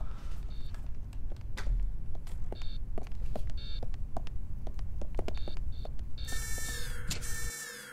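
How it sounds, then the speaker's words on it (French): An electronic alarm in the video game Projet BLARI beeps in short repeated bursts over a dense, rumbling game soundscape, ending with a rapid high warbling tone. "Le son de l'alarme, c'était pas trop fort pour vos petites oreilles"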